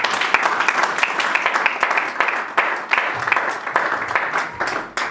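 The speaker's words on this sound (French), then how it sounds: "On acclame le Seigneur." A church congregation applauding and cheering in praise, a dense, loud wash of clapping that carries on steadily with a few shouts mixed in.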